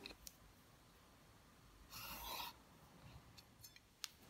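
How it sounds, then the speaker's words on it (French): Pencil drawing a line on paper while constructing an isosceles triangle, one short faint scratchy stroke amid quiet scattered ticks and taps, no talk. "Tracez un trait."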